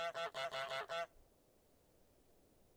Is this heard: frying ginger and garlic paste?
no